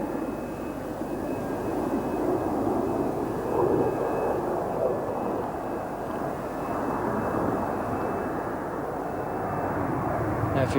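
Jet engines of the RNZAF 75 Squadron Kiwi Red aerobatic team roar steadily through a 6,000-foot loop and the dive that follows, a broad, sustained rushing drone heard from the ground at airshow distance.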